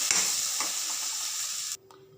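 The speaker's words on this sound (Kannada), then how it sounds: "ಈ ಥರ ಬೆಂಡೆಕಾಯಿ ಹುರಿಬೇಕಂದ್ರೆ ಸ್ವಲ್ಪ ಅರಿಶಿನ ಪುಡಿ ಹಾಕ್ಕೊಂಡು ಹುರಿದ್ರೆ ಅಂಟಂಟು ಆಗೋದಿಲ್ಲ, ಬೇಗ ಚೆನ್ನಾಗಿ ಫ್ರೈ ಆಗುತ್ತೆ." Okra frying with turmeric powder in a pan sizzles loudly and steadily up close, with a few stirring scrapes, then cuts off abruptly near the end, leaving near quiet.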